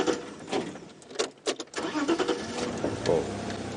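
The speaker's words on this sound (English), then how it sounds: "We're just going to start the car." A safari vehicle's engine is started out in the bush, cranking in uneven bursts and then catching into a steady running rumble close by.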